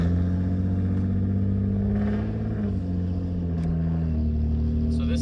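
A Toyota Mark II with a new aftermarket exhaust runs at low RPM, giving a steady, deep droning rumble with slight shifts in pitch, close and loud.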